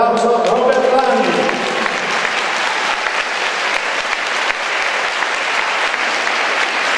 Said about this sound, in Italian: Accogliamo con un grande applauso Robert Lani.